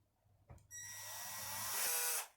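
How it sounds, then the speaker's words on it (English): A power drill mixing epoxy resin whirs up and runs steadily at high speed for about a second and a half, then stops; a few small knocks come just before it. "I'm going to mix it a little more with my drill."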